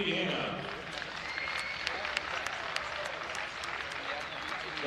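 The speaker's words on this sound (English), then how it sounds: "Let's give one more giant round of applause to the future of Ultimate here in Indiana." A crowd in the stands at a professional ultimate frisbee game applauds, a broad wash of clapping and faint cheers that fades slightly, heard somewhat distant across the venue.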